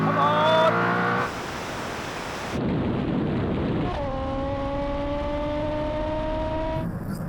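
Drag race start between a Koenigsegg Agera RST, a Tesla Model S Plaid and a Suzuki Hayabusa motorcycle toward the half mile, with a revving engine whine rising in pitch through gear changes under broad rushing roar, loud and fairly close, no talking.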